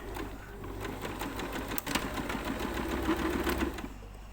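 A Janome sewing machine runs a straight stitch at zero width and 2.5 length, its needle clattering in a fast, even rhythm, close and steady throughout.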